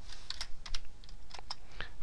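Quick, light clicking of computer keyboard typing during office software work, an uneven run of keystrokes close up against a faint steady hum.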